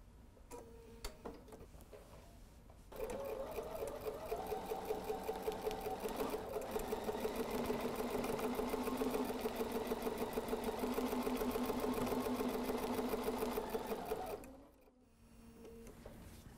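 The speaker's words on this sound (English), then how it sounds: "I'm going to keep it simple, just starting with stitching in the ditch." A sewing machine stitching in the ditch on a patchwork quilt, a steady fast mechanical whir with rapid ticking needle strokes, close and running continuously for about twelve seconds before stopping.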